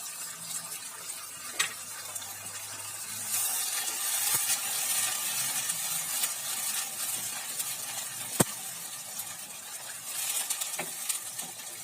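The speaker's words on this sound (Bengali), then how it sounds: "এবার আমি কেটে রাখা পেঁয়াজগুলো দিয়ে দেবো।" Chopped onions sizzle in frying masala for a chicken liver bhuna, a continuous moderate hiss with occasional stirring clicks and scrapes, growing slightly busier midway and lasting around twelve seconds.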